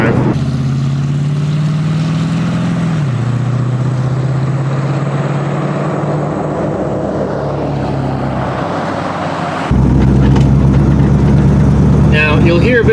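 A Foxbody Mustang cruises in overdrive gear with a steady low engine drone and road roar, shifting pitch slightly partway through, while someone talks over it from inside the car.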